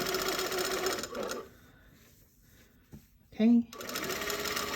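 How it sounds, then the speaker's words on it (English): A sewing machine stitches a seam on a pair of pants, a fast rhythmic mechanical whirr close by in short bursts with a pause between, and a person says a word during the gap. "I'm sewing very close, like just like the width of a pin away from that first stitching line."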